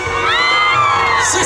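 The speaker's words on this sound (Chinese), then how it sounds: "我们给工作人员一个掌声跟尖叫声" A concert crowd at an outdoor stadium mid-autumn music show cheers and screams loudly in one sustained burst, high shrieks and whoops rising together.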